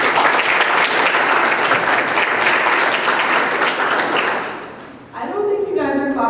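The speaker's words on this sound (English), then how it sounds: "I don't think you guys are clapping loud enough for all of our executive VP positions" Loud, dense audience applause fills a student election speakers night, holding steady for about four seconds before fading, then a voice starts talking near the end.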